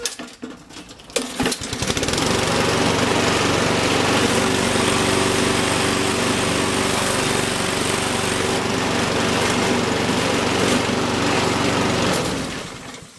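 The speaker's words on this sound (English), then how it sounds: "What we have for you today is this Honda lawnmower, and what the problem is it's shaking itself to death." A Honda lawn mower that vibrates and shakes badly starts up and runs at a steady, loud, close engine roar for about ten seconds, then winds down, with rattling from the shaking and no talking.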